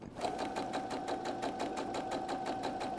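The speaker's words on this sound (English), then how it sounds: "We're going to stitch forward, reverse, and then we're going to go on and go across" Sewing machine stitching forward and then in reverse along the edge of the presser foot on fabric for an art wallet, a steady rapid mechanical chatter heard up close and alone.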